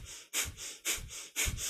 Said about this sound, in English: imagine that you're a happy puppy panting in the park, except instead of panting through the mouth,